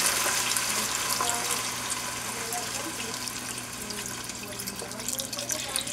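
Chicken broth pours steadily into a pot of browned chicken stew ingredients, a continuous close splashing stream with faint sizzling underneath, running without speech.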